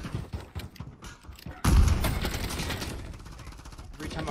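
Gunfire in Call of Duty MWIII multiplayer, a loud sustained burst of shots kicking in partway through and running to the end, after a quieter stretch of clicks and scattered game noise with some voice.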